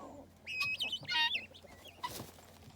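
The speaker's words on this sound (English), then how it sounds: "there's another little cockerel" A young cockerel clucks and chirps close by among guinea fowl and chickens, several short bursts over a quiet farmyard background.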